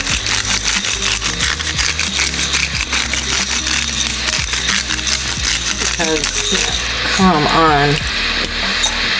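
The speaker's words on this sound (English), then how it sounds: "I also have the black pepper out, so I'm gonna do some black pepper." Dense, rapid ratcheting crunches come from a pepper mill grinding black pepper over a cooking pan. The sound is loud and close and continues through the whole stretch, with a brief voice rising near the end.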